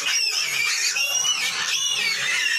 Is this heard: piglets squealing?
yes